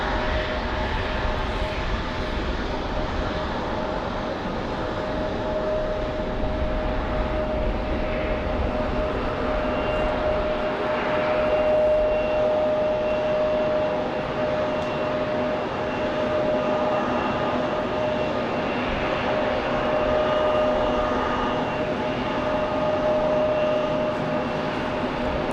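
Delta flight 1312, an airliner, takes off from runway 5 left at Raleigh-Durham in rainy weather, a sustained broadband jet roar holding steady and loud throughout with a faint whine above it.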